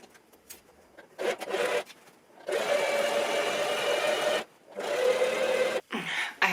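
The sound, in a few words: sewing machine stitching a seam on a crop top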